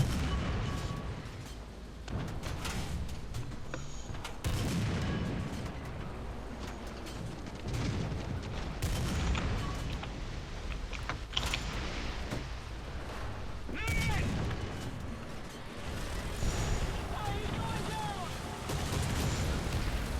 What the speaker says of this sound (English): I can see those shots coming in at you, bud.